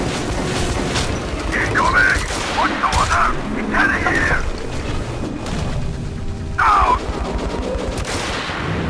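Heavy gunfire in the post-apocalyptic shooter game Metro: Last Light, a dense, loud barrage of shots and booms that fills the whole stretch, with shouted voices breaking through over the din.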